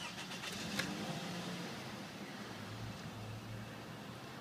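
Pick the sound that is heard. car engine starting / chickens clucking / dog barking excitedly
car engine starting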